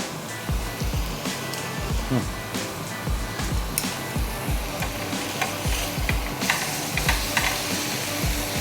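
Vegetables and chicken stir-fry in a pan, steady loud sizzling with rapid scraping and clattering of a utensil stirring close by, continuous and busy.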